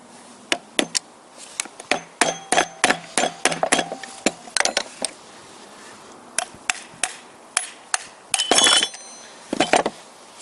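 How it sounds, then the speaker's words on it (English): Sharp metallic hammer strikes drive out a locking bolt on an OMC Evinrude 4 HP outboard motor, ringing out close by in irregular bursts, some single blows and some quick clusters, with brief pauses between. "I need to hammer this locking bolt in here away."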